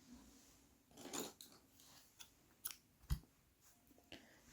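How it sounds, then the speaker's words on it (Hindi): Scissors snip crochet yarn close by in a quiet room, a few sharp isolated clicks and small handling taps spread across the moment. "यहाँ पर धागा काट देंगे।"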